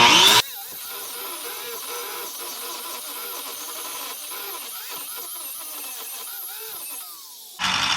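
An angle grinder runs under load with a steady, high whine that drops in pitch and strains as it bogs down, close and loud, with sharper bursts at the start and end.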